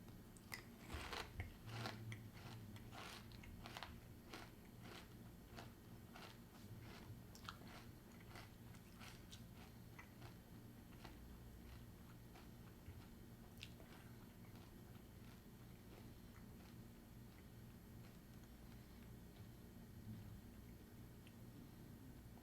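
Raisin Bran with Cranberries cereal chewed close up, a burst of crunchy bites at first easing into a long stretch of softer, steady mastication, quiet and without talking.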